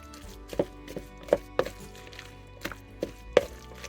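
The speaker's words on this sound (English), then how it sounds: "Those beans are going to get mashed." Cooked beans mashed in a pot, with a steady series of sharp thuds and knocks of the masher striking the pot bottom, about six distinct hits at uneven intervals, close and fairly loud, no talk.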